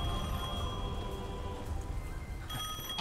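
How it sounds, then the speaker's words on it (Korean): A phone rings in the video game Devil May Cry 5, a steady electronic ringing tone that holds throughout, alone and fairly loud, with no voices over it. "전화가 있네요. 전화 받아보자."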